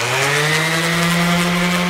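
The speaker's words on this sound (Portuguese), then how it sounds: "eu tô passando a lixadeira, mas é uma lixa mil" An electric sander with 1000-grit sandpaper smooths kitchen cabinet wood, giving a loud, steady motor whine and abrasive hiss that runs unbroken throughout, close up and with no talking.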